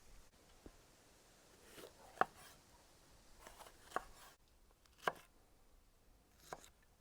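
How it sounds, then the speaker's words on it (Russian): A knife chops sweet bell pepper into large cubes on a board, a handful of sharp, separate cuts spaced about a second apart, close and fairly quiet, with no talking. "И нарезаем крупным кубиком."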